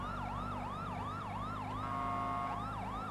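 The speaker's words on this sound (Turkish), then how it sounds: "Sirenler, mirenler çok bayıldım ha." Police sirens in the GTA 5 video game wail in a repeating rise-and-fall pattern, loud and continuous over a low engine hum, with a brief steady tone partway through and no talking.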